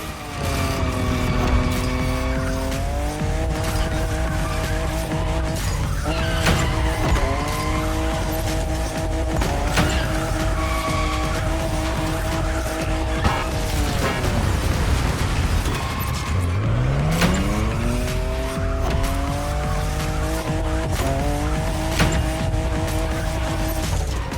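A fifth-generation Toyota Supra drifts in the racing game The Crew Motorfest, its engine revving loudly and rising and falling through gear changes while the tires squeal continuously through the slides.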